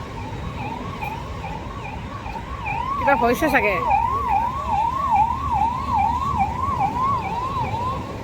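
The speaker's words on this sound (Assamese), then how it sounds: "এই গাড়ীবিলাক দেখিছেনে, এম্বুলেঞ্চ হাতী নি আছে, সেইবিলাক চাগে এনিমেলৰ কাৰণে এম্বুলেঞ্চ।" An animal ambulance carrying an elephant passes with its siren wailing in a steady rapid warble over road and traffic noise, while someone briefly speaks nearby.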